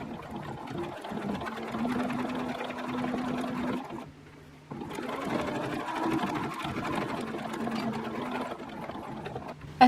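A sewing machine runs steadily while stitching a seam, humming close and loud with a brief pause midway before continuing.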